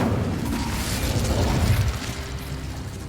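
Incendio fire spell cast in Hogwarts Legacy, a steady rumbling whoosh of flame with low crackling bursts, fairly loud and sustained for a few seconds, then easing slightly.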